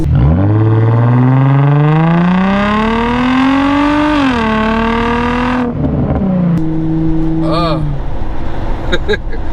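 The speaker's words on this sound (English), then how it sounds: "You let off the gas like that, and it, even like when you're on the freeway, it'll just be popping. Pop, pop, pop, pop, pop, pop, pop." An Infiniti G35 with resonator and muffler delete revs up through a rising engine drone, then the throttle lifts and the exhaust crackles with quick pops and burbles, loud and close from inside the car.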